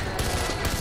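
Rapid gunfire bursts in the first-person shooter Far Cry 4, a loud fusillade of close shots in quick succession with game ambience underneath.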